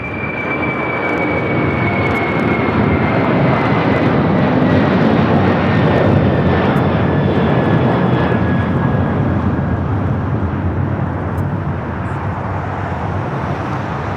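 An Atlas Air cargo jet at Los Angeles International Airport roars loud and steady throughout, a broad engine rush with a faint descending whine and no talk.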